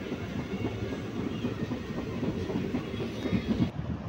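A passenger train pulls into Sahara railway station on a trip from Delhi. A steady, fairly loud rumble and clickety-clack of rolling railcars continues throughout with no voices.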